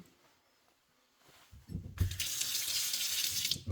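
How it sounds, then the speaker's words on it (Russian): A kitchen tap is opened to test water pressure: after quiet handling noises, water bursts out at about two seconds and gushes strongly and steadily into the sink, fairly close. "Давайте посмотрим напор воды."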